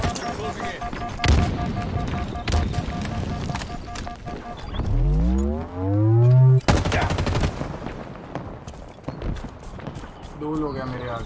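Bursts of sniper and automatic gunfire from the shooter game Halo Infinite crack in a loud, irregular volley, interrupted by swooping in-game effects, while a player talks over the action.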